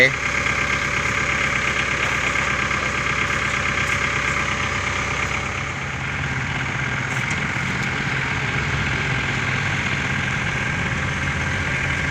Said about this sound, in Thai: ต่อเทเลอร์เข้ากับรถไถ